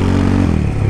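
A Honda Today motorcycle, freshly repaired by its owner at home, idles close by with a deep, thick engine rumble: a steady throbbing drone whose pitch drops midway.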